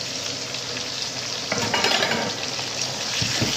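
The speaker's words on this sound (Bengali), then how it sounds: "টমেটোটা দিয়ে আমি একটু নেড়ে নেবো" Green chilies and tomato stirred in a hot pan, a steady close sizzle of frying with a brief scrape and swell of stirring partway through, no voices.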